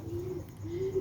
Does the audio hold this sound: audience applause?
no